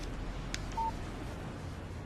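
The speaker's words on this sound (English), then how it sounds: "Text message from Barry." A phone text message alert chimes once in the Alan Wake video game, a short electronic tone standing out over steady low background ambience with no talking.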